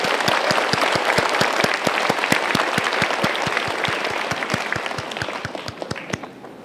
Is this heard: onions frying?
no